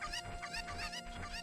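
Chickens cluck in a Zelda game, a run of quick, bright, repeated clucks and squawks that stay steady and fairly close throughout, with no talking over them.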